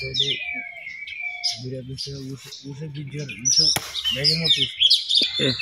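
A bird calls with bright, repeated chirps and tweets around a home, sounding fairly close, mixed in with people talking nearby.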